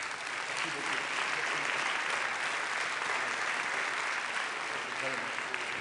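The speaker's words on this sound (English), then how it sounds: "Please join me in applauding this wonderful panel." Steady audience applause for a panel at the One Health Summit in Lyon, dense and even from start to finish.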